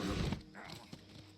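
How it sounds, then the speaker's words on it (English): A horse in a cave in the video game Metal Gear Solid 3 clops and stirs in a short, uneven burst, with a voice mixed into the game sound. "There's a horse in that You cave."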